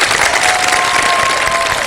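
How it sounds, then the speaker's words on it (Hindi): Studio audience clapping in a televised iftar show, loud dense continuous applause filling the whole short stretch. "बहुत सारी तालियां कपूर साहब के लिए"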